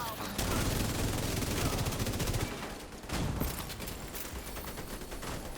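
Rapid automatic gunfire bursts in a first-person shooter video game, loud and dense with brief pauses, mixed with in-game combat sounds.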